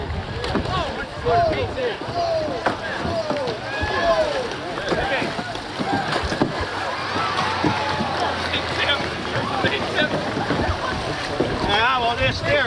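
A canoe moves across open water during a race, with a steady wash of water and wind running throughout while several voices talk and call over it.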